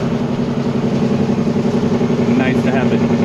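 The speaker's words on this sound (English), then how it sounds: "Nice to have a Jake brake." Steady low diesel rumble from a 2004 Peterbilt 379 truck with straight pipes and a Jake brake, heard from the cab on a cold day, loud and continuous with a person talking over it.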